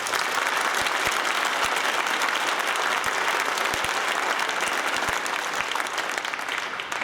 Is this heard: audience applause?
yes